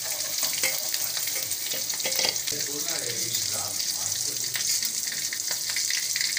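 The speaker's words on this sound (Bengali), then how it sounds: "এবার আলু ভাজাটা তুলে নিচ্ছে" Fried potatoes are lifted from sizzling oil in a wok, a constant bright crackle of frying with clinks and stirring scrapes, close and unbroken, no voices.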